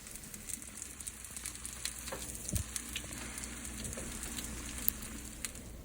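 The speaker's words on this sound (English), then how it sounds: "listen to this sizzle" Steady crackling sizzle of sausage rolls cooking in an oven at 350 degrees, a continuous fine hiss with scattered pops, fairly close and with no talking.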